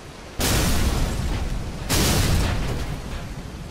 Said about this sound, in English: That's probably the best explosion, to be honest, at least as far as the look of the explosion goes